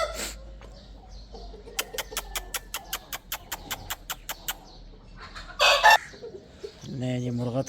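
An Aseel rooster on a farm gives a quick run of sharp, evenly spaced clucks, followed by a louder burst of calls. A faint voice is heard near the end.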